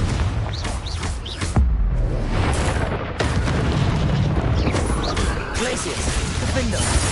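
A Confringo blasting spell goes off in a Harry Potter video game, with booming, crashing blasts amid dense game noise and speech throughout.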